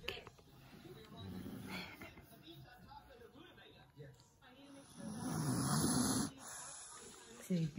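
Baby snoring while asleep, soft raspy breathy snores with a louder snore near the end, under nearby adult talk.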